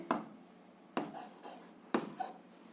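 Handwriting on paper while solving an algebra system of equations, with three short bursts of pen strokes about a second apart, close and quiet, no talk.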